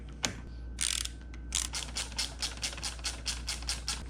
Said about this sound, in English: Go ahead and grab your 10mm socket.